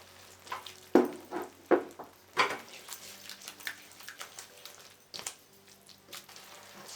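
Tomato puree frying in a pan while being stirred for malai kofta, with a soft steady sizzle broken by several wet squelching stirs and clinks of the spoon against the pan.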